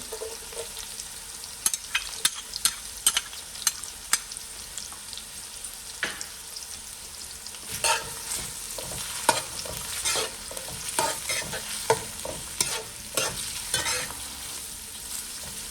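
Garlic sizzles in a hot pan for Jamaican steamed cabbage, with a spoon scraping and stirring in quick irregular strokes over a steady frying hiss, close and fairly loud, no voices.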